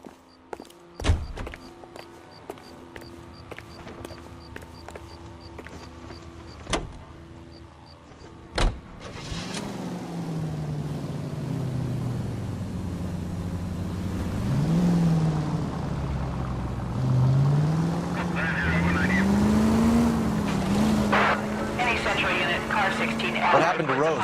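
A car is driven in the game L.A. Noire, engine revving and shifting through gears beneath ongoing dialogue, with a door thunk and footsteps before it starts.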